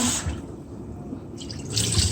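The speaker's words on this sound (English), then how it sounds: "I'm sure you just rinse the rice about 2 times," Water runs and splashes while a pound of rice is rinsed in a kitchen basin for Jamaican ackee and rice, a steady close wash with brief louder gushes near the start and end.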